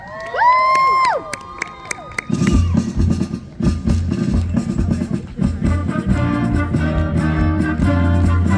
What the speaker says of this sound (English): show your pride with your loudest cheer!